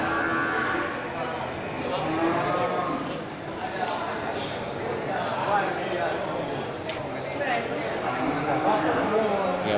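Aceh buffalo bulls at a livestock market low and moo amid a steady crowd murmur, with hoof clatter and people talking throughout the busy, noisy scene.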